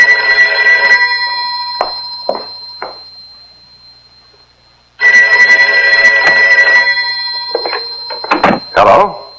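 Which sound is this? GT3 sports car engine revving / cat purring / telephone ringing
telephone ringing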